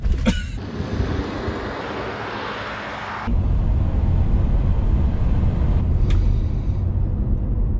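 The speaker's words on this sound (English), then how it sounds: "I think now would be a good time to uh, test that zero to sixty." A Tesla Model 3 Performance electric car accelerates hard from a standstill, a steady broadband road-and-wind rush that jumps louder midway and holds, heard from inside the cabin with no talk.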